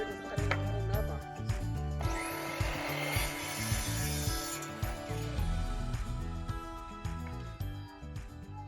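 Hand saw cutting a length of wood lumber for building a raised garden bed outdoors, a steady scraping rasp of back-and-forth strokes lasting several seconds, with voices speaking around it.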